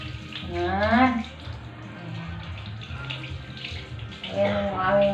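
Running water pours steadily while a dog named Sniper is showered, a broad continuous rush with a voice speaking briefly near the start and again near the end.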